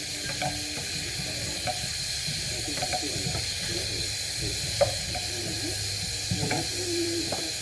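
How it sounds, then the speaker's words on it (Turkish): Grated carrot sautéing in a pan for a braised lamb neck dish, a steady soft sizzle and hiss with occasional light stirring scrapes, close and moderately quiet, no talking. "Biraz da bundan kavuracağız."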